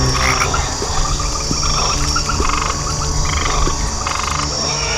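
A dense chorus of many frogs croaks continuously, loud and close, with a steady insect-like hum and overlapping calls that never let up.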